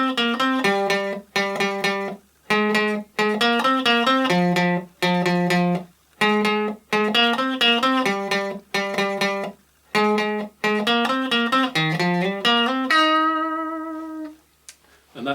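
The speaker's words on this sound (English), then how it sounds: "the intro sounds like this." An electric guitar plays the intro riff of a song as a fast, bouncy string of clipped, picked notes in steady rhythm, ending on one long ringing note, with no voice present.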